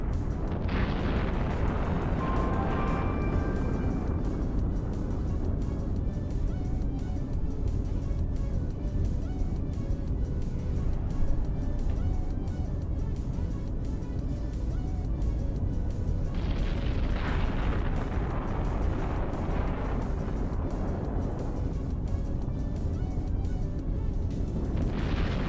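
Torpedo explosions in the space game EVE Online, deep rumbling booms that swell repeatedly over a continuous low roar, a couple of stronger blasts standing out over about twenty-five seconds.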